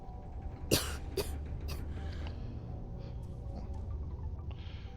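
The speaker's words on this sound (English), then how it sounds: "That cough doesn't sound good at all." A few sharp coughs from a character in the video game Starfield near the start, then a low steady background hum with faint small noises.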